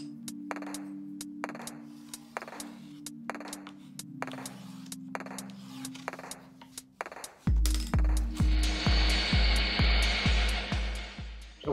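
A bandsaw cuts out MDF furniture templates for an oriental-styled table, the loud motor hum and blade whine rising sharply partway through and continuing steadily, after a quieter stretch of rhythmic background pulses.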